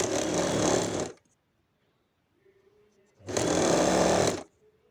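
Sewing machine stitching a blouse hook strip in two loud, steady bursts of about a second each, separated by a quiet pause with a faint hum.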